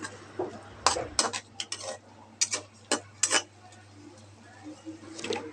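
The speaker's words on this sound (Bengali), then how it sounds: "এখন দিয়ে দিলাম কাঁচামরিচ কুচি। একটু ভালোভাবে নেড়েচেড়ে মিশিয়ে দিব।" A spoon stirring fish and cabbage curry with chopped green chili in a pot, giving a series of close, distinct clinks and scrapes against the metal, spaced irregularly with quiet gaps in between.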